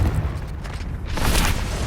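In the video game Hogwarts Legacy, a Confringo spell blasts with a booming explosion, a sharp burst swelling into a loud crackling roar that fills the second half, with no talk.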